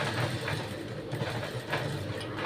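A sewing machine runs steadily while stitching a blouse, a continuous close mechanical whir with a faint rhythmic pulse, heard alone without talk.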